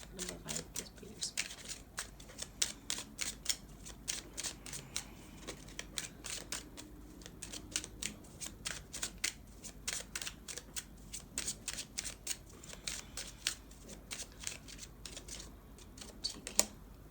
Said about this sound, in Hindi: यहाँ पे मैं इस डेक से भी आपके लिए 2 कार्ड्स ले लूँ